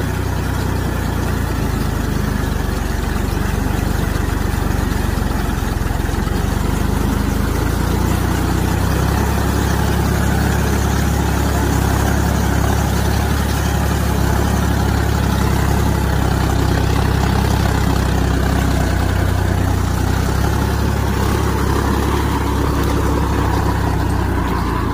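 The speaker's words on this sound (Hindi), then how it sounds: "गांव देहात में देखिए दोस्तों इसी तरह ट्रैक्टर से रोटावेटर से जुताई चलता है" A tractor pulling a rotavator ploughs a village farm field, its engine a loud, steady drone that runs unbroken for the whole stretch, with no talking.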